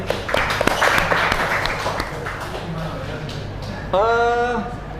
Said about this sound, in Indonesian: tepukan dulu